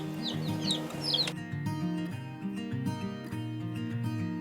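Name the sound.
baby chicks peeping while eating and drinking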